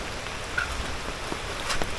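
Heavy rain falls in a steady, dense hiss on leaves and surfaces near a garden plantation, continuous and even with a few faint drips standing out.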